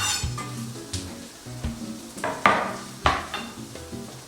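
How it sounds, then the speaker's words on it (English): Garlic sizzles in a pan for a meat-free bolognaise, a soft close frying hiss broken by several clinks and scrapes of a utensil against the pan. "I'm going to pop our garlic in now."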